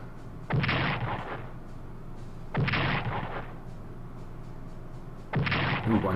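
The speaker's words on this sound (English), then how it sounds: "Then we'll apply some bombardments from the air." Air bombardment explosions in the World War II strategy video game Strategic Command, three loud separate booming blasts spaced a couple of seconds apart, each decaying quickly over low background.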